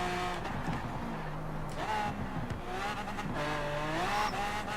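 A Lamborghini Aventador J in Forza Horizon 4 climbs a hill road, its engine revving up and down through gear changes with some tire squeal, loud and close, with a voice talking faintly underneath.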